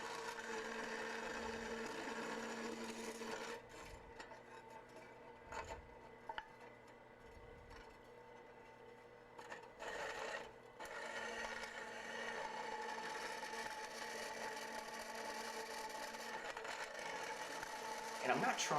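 A Harbor Freight horizontal/vertical metal-cutting band saw slices through a 3/16 stainless steel knife blank, a steady whirring, rasping drone with short breaks and shifts in pitch as the cut moves, continuing to the end.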